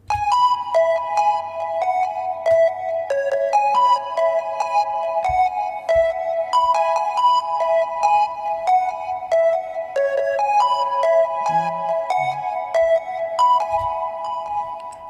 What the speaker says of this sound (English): I picked a sound. It's like a pluck, like not really a synth, but I don't know, just like a weird kind of sound